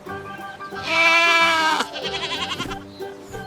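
A farm goat bleating, one long, loud, wavering cry followed by a shorter, trembling bleat, close and clear with no talking.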